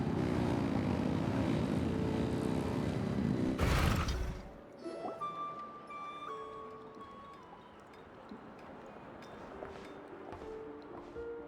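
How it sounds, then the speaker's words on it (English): A loud, roaring engine revs in the video game Genshin Impact, a dense, steady blast for about four seconds that cuts off abruptly. Quieter musical tones and chimes follow. "Rev the engines!"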